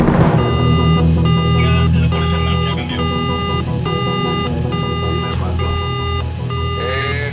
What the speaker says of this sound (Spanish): las alarmas de la primera boya saltaron en el Calypso.